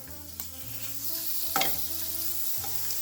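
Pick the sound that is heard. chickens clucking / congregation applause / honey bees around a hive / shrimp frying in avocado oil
shrimp frying in avocado oil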